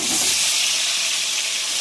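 Taro pieces dropped into hot oil with dried chilli and cumin, frying in a pan: a dense, steady hiss of sizzling, loud and close, continuous for the brief moment with no voices.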